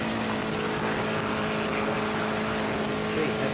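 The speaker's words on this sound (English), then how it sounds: "have a listen to Bo's car out there. Hasn't lifted for about a minute" Bo's race car engine held flat out during the Big Desert 480 off-road desert race, a steady distant drone that stays constant without lifting, heard through a broadcast with background noise.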